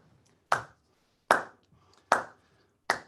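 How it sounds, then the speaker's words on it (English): Four sharp, evenly spaced group claps ring out in unison during a percussion workshop, each one a crisp, near slap with quiet gaps between. "let's all get our claps going again"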